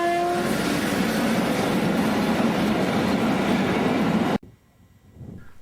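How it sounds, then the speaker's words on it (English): A loud diesel locomotive hauling a train rumbles past close by near Wolsztyn in winter, with steady roaring and clattering, a brief horn note at the start, then cuts abruptly to quiet. "The morning train was hauled by a diesel locomotive."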